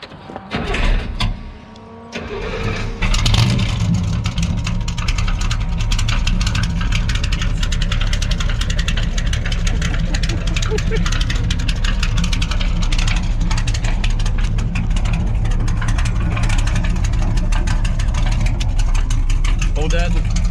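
Homebrewed 454 V8 Corvette with a 5-speed, its engine droning loud and steady from inside the car during a ride after a brief quieter stretch at the start, with voices talking over it.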